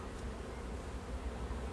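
Honey bees buzz in a dense, continuous swarm hum after being shaken off brood frames while queens are reared by the starter-finisher method, close and steady with no one talking.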